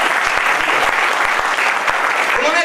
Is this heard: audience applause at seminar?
yes